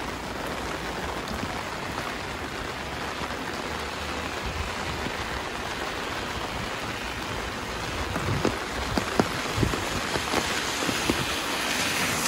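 Steady rain pattering on surfaces outdoors in rural Japan, a dense continuous hiss with a few closer drops standing out near the end, no talking.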